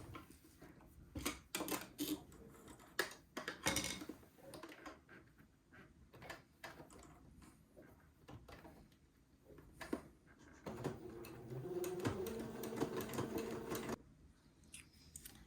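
A sewing machine zigzag-stitches entredeux onto fabric to tack it in place, with a few seconds of steady close mechanical whirring near the end after scattered quiet clicks and handling sounds.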